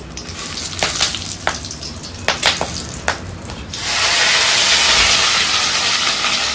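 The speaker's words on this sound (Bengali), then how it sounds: "ছোট ছোট করে কেটে রাখা গাজর আর বিনস ভেজে নিচ্ছে।" Chopped carrots and beans frying in ghee in a pot with bay leaf and whole garam masala, a steady sizzle with several stirring knocks, then a loud, hissing surge of sizzle for the last few seconds.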